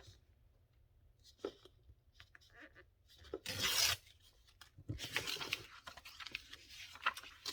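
Paper being cut with scissors during a papercraft session, heard as faint, close snipping and rustling with a few louder crisp bursts toward the middle and end, over a quiet background.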